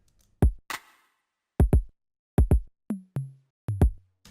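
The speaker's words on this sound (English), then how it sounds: "Just like some like 808 toms that just fill in some gaps." Soloed 808 toms from a drum rack: a sparse pattern of short, punchy electronic drum hits with quick pitch drops, some in doubled pairs and a few lower resonant tones, alone and dry with silence between.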